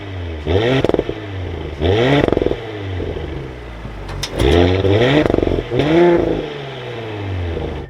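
A 2023 Audi S5 Premium Plus Sportback engine fires up and revs in several loud, close bursts, each rising and falling in pitch, with a throaty exhaust and brief crackle between blips.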